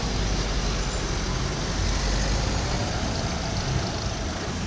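Steady roar of a traffic jam on a road bridge over the Rivière des Galets at La Possession, Réunion, in the evening: dense, continuous rumble of cars and heavier vehicles with no pauses, close and fairly loud, no talk.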